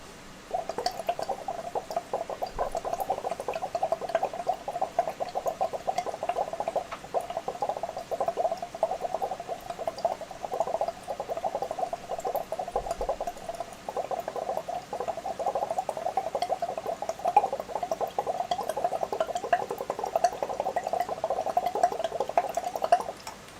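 Breath is blown gently through a tube into lime water, producing a steady stream of small bubbling, gurgling pops that continues evenly for over twenty seconds.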